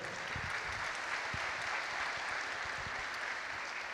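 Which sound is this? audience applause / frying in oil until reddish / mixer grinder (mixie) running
audience applause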